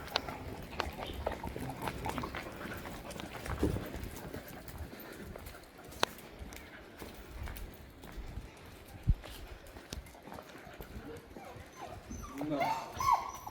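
Pet dogs whimpering and fussing on meeting other dogs during a camping-car stop in Alsace, faint intermittent whines and scuffles mixed with footsteps, clip-clop-like knocks and outdoor background, with people talking.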